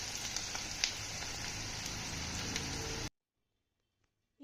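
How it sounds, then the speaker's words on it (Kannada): Okra (bhindi) frying in oil crackles and sizzles steadily in a dense, rain-like hiss for about three seconds, then cuts to near silence. "ಇದು ಸ್ವಲ್ಪ ಹೊಂಬಣ್ಣ ಬರೋ ತನಕ ಎಣ್ಣೆಯಲ್ಲಿ ಕರಿತಾ ಇದ್ದೀನಿ"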